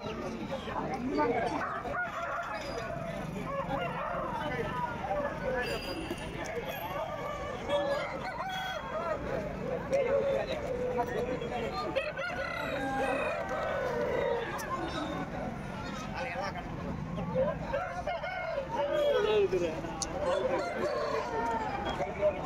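Chickens cluck steadily and a rooster crows more than once at a weekly poultry market, with people talking over the poultry noise throughout.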